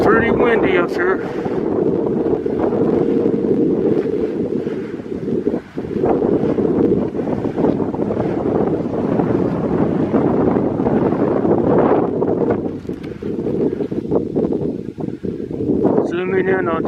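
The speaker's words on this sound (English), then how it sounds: "It's pretty windy up here." Strong gusting wind buffets the microphone at an exposed hilltop overlook in a park, a loud steady roar throughout with brief dips.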